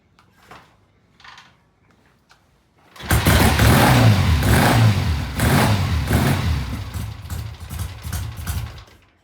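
A trike with a monoblock engine cranks and fires up abruptly after quiet murmured voices, then idles loudly and roughly with a pulsing, uneven rumble close by.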